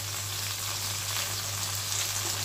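Onion frying in a pan for a home-cooked dish, a steady close sizzle with crackle that holds evenly throughout, no voices over it.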